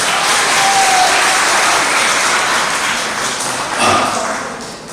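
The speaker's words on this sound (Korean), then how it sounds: "이성희 변호사님 박수로 모시겠습니다." Audience applause welcoming a lawyer to the podium at an emergency church press conference, a loud, dense wash of clapping sustained for five seconds before tapering slightly at the end.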